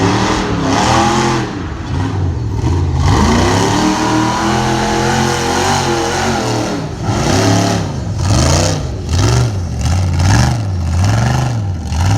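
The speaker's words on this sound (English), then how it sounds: "this thing's got a pretty nasty little LS motor in it as well" An off-road hill climb vehicle with an LS engine revs hard at an off-road park, its loud, close engine note swelling and dropping in repeated pulses with wavering pitch.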